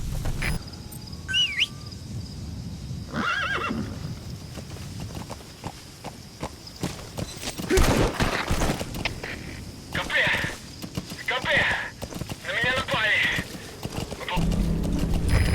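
Hooves clip-clop at a walking pace on hard ground in a video game, with a horse whinnying and snorting, birds chirping faintly, and voices speaking at times.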